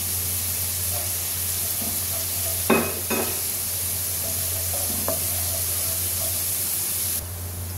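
Chopped garlic fries in oil with a steady, close hiss of sizzling throughout, broken by a brief clatter of a utensil against the pan partway through.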